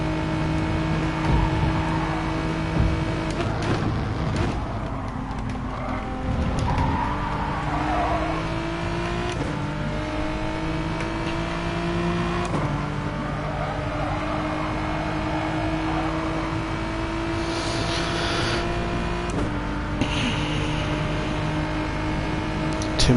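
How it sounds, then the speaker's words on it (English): GT3 race car engine in a racing video game, revving and holding a sustained, loud drone whose pitch climbs and shifts through gear changes across the whole stretch, with no break in the sound. "Let's rev it out a bit more."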